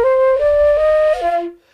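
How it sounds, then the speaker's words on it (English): A single sustained trombone note played with an overly wide lip aperture, breathy and airy, bending in pitch and then dropping off as the air runs out after under two seconds. "So if my aperture is too wide open, sounds like this."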